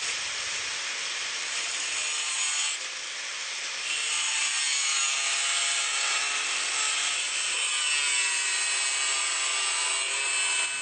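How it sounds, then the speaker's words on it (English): Hand saw cutting square across the ends of a metal arm piece during a build, a steady, continuous rasp of back-and-forth strokes that runs nearly eleven seconds with a brief pause near the third second, close and alone. "I'm trimming off the ends of the arm square, and then I'm going to cut part of the way in"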